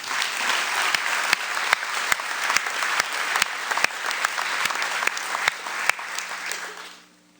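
Sustained audience applause at the J-98 Spring Dream Team awards ceremony for the 2013 girls track dream team, dense clapping from a crowd that holds steady for several seconds and then fades out.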